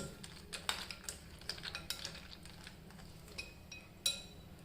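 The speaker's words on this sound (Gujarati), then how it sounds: "સારી રીતે મિક્સ કરી લઈશું ત્યારબાદ આપણા કાજુ નાખી દઈશું એને પણ મિક્સ કરી લઈશું" A spoon stirs dates pickle with cashews in a pan, with light scraping and intermittent clinks of utensil against metal, fairly quiet and close, with no talking.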